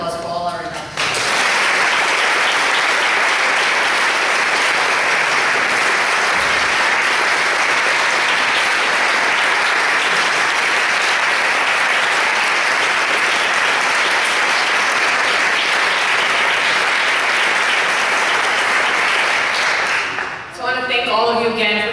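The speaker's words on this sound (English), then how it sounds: "So one last round of applause for all our inductees." Sustained loud applause from a ceremony audience honoring Hall of Achievement inductees, dense clapping filling about twenty seconds before trailing off, with brief voices at the start and end.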